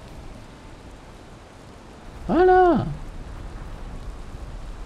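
Steady rain hisses evenly throughout the video game Valheim, with a single short spoken exclamation rising briefly over the downpour midway.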